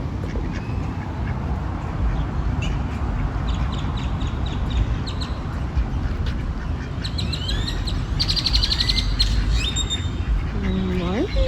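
Ducks, including drakes, quack and call at the Trinity Park duck pond in Fort Worth, Texas, in a steady outdoor chorus with bird chirps and a constant low background rumble throughout.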